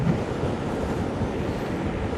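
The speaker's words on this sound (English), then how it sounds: "I know it's windy." Steady, loud rumbling buffet of wind hitting the microphone while riding an Ausom L2 Max e-scooter at about 23 mph, continuous throughout with no pauses.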